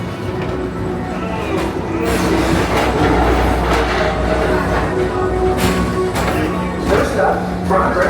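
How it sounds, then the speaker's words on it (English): A Magic Kingdom PeopleMover ride vehicle rolls steadily along its track with a continuous rumbling hum, punctuated by light clicks and squeaks of the wheels. "your express train keeps on rolling through the future"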